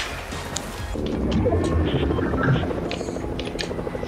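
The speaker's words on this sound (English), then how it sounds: "That is helicopter." Low rotor rumble of a helicopter in the video game Squad, muddied by game noise and a few clattering hits, with voices talking faintly over it.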